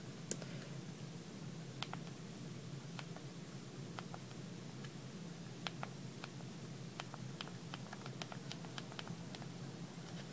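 Keys clicking on a Pantech P7040P phone keypad while a message is typed, a steady run of small, sharp, close taps at an uneven rhythm over a low background hum.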